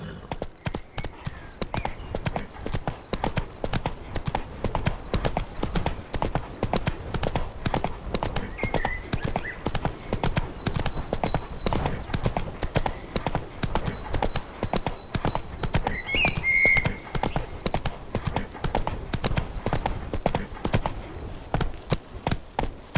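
Horse hooves in The Witcher 3 game, a rapid continuous clip-clop of galloping that stays loud and close, with a brief whinny now and then and faint voices in the background.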